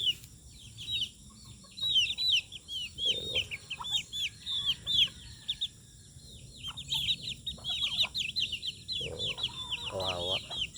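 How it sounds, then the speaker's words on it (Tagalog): Backyard chickens clucking in an irregular run of short calls, with chirping birds high in the background and occasional other farmyard noises. "Ito na yung manok ko lahat guys."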